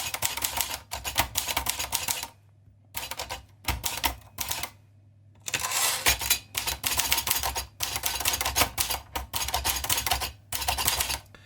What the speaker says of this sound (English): Obviously, it's a mechanical typewriter.